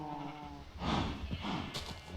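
Minecraft sheep in a pen give a quavering bleat, followed by further overlapping bleats and soft animal noises, fairly close and moderately loud.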